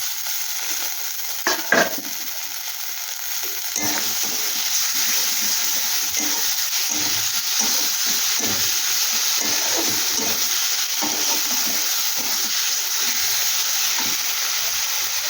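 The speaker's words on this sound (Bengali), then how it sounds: "এটাকে একটু ভেজে নিচ্ছি, কাঁচা গন্ধটা চলে যাবে।" Ingredients sizzle and fry in a pan while cooking a vetki fish chachchari, a steady loud hiss with occasional clinks of stirring, alone with no voices.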